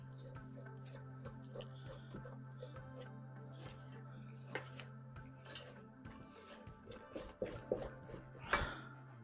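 A whisk or spoon clinks and scrapes steadily against a bowl as firm crêpe batter is stirred and thinned with milk added bit by bit, with the rhythmic taps growing busier and louder toward the end.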